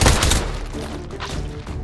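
Gunfire in the VR shooter H3VR, a dense burst of loud shots crackling at the start, then a thinner stretch of scattered reports and echoing tails.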